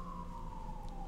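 A single siren wail holds a steady, slowly falling tone in the distance, faint under room noise, ending with a brief sharp knock.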